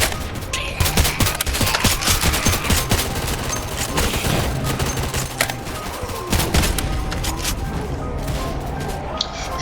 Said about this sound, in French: Je vais tester ce fusil, la G3, fusil de Call of Duty 4.